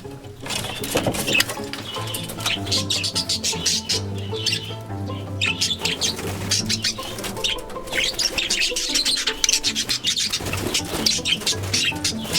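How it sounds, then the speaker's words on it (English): Pet budgies chirp and squawk in a dense, continuous chatter that runs throughout, fairly close and loud, with a steady low hum underneath. "Good morning, birdies."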